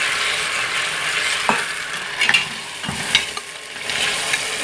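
Chicken fries in a pan with garlic as it is stirred and browned, a steady soft sizzle broken by scattered scraping knocks of the utensil against the pan, with no voices.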